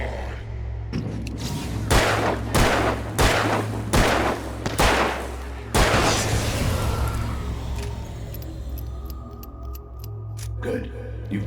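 Gunfire in the video game Alan Wake: a rapid series of six or seven loud, sharp shots, then a heavier blast and fading echoes over a low droning hum.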